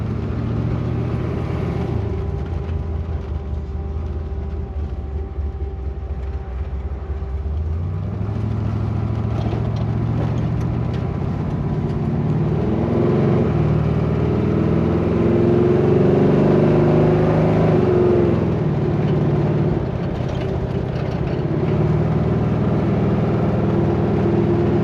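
A 1968 Chevrolet Camaro convertible on a test drive, its engine droning steadily and close, with the pitch shifting as it accelerates and settles, heard alone without talk.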